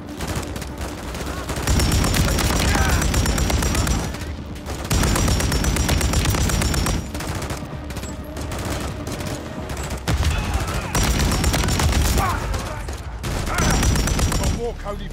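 Heavy sustained gunfire fills a Call of Duty: Modern Warfare 3 campaign battle, dense bursts of automatic weapons and booms rolling in loud waves with brief lulls, while voices shout over the combat.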